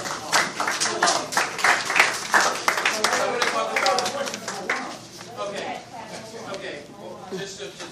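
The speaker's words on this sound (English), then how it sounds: "put a round of applause for Juan." People at a participatory budgeting community meeting give a round of applause, sharp hand claps rising to a lively peak and then thinning out toward the end, fairly close in a modest room.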